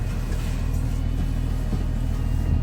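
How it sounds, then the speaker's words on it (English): A school bus engine idling after startup during a pre-trip inspection, a steady loud low rumble that continues evenly throughout with no talking. "So the engine is now started."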